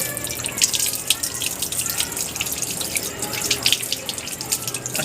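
Water pours steadily over hands during wudu washing, a continuous splashing trickle with dense dripping and spattering throughout, close and fairly loud.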